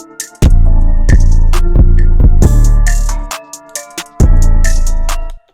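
A hip-hop beat drops with the hi-hats and percussion pulled out, leaving deep, booming bass hits that ring out under a melodic sample, with a short pause before the bass slams back in near the end.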